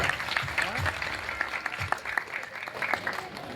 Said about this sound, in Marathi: असे सन्माननीय भारतजी वानखेडेसाठी आपण जोरदार टाळ्या वाजवूया